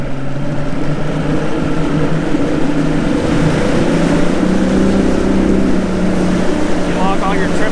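Motorboat engine running on its first outing, a steady loud drone with wind and water rush throughout, while people talk over it.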